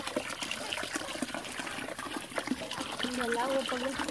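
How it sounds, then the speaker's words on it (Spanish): Water runs steadily into a container outdoors, a close, continuous trickling and splashing as it fills, with someone speaking over it. "Ahí está la ardillita llenando el agua."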